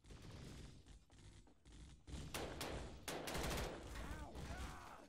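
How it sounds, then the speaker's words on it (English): Tripod war machines open fire in a Garry's Mod battle, a dense fusillade of rapid gunshots and blasts building in intensity, with a faint voice underneath. "they are firing at us from all sides"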